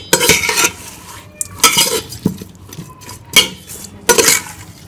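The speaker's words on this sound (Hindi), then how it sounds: "सारे मसालों को हम अच्छी तरह से इसे मिक्स कर लेंगे चिकन के साथ।" Chicken is mixed with masala and coconut paste in a metal pot, a spoon scraping and clinking in several loud bursts separated by quieter pauses, close by and without voices.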